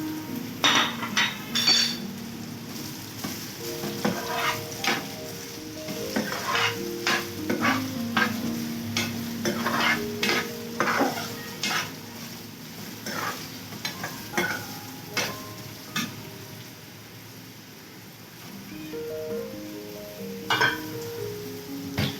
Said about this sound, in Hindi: अब इसमें जाएगा ऑयल में गाजर।